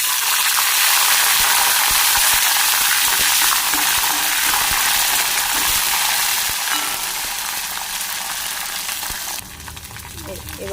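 Capsicum sizzling hard in hot oil with cinnamon, cardamom, cloves, cumin, dry chilli and bay leaves, a loud steady frying hiss with stirring scrapes that eases slightly toward the end.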